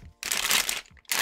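A plastic bag of building bricks being handled and crinkled up close, two loud rustling bursts separated by a brief quiet gap.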